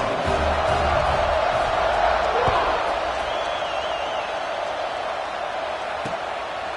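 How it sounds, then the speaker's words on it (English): Football stadium crowd at a Howard University HBCU game roars steadily just after a kickoff, a dense, sustained wash of cheering that fades slightly, with a commentator's voice faintly mixed in. "They're set to kick it off, and this crowd now ready to get behind them."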